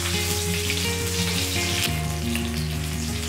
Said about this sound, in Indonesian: Kita tumis bawang bombay setengah yang sudah diiris panjang-panjang.